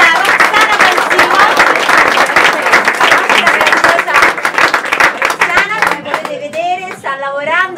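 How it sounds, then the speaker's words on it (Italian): Brisk, close applause greets a fashion designer introduced at an Italian fashion event, loud dense clapping that thins out near the end as a voice starts talking. "Roxana, un bel applauso per la nostra stilista Roxana Pansino."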